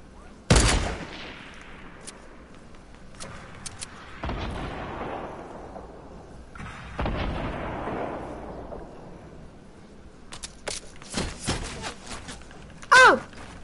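Heavy Fortnite gunfire and booming blasts, a few sharp loud shots with long echoing tails, then a cluster of quicker cracks near the end.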